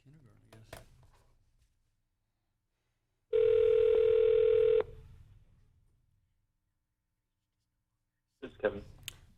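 Telephone dial tone and touch-tone dialing over a speakerphone in a municipal work session: a steady dial tone of about a second and a half with keypad beeps, then a gap and a clicking connection sound. Faint room noise precedes it.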